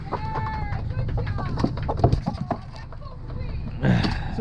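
An injured chicken clucks repeatedly up close, short rising calls in an uneven rhythm, with low background noise and a brief louder rustle near the end.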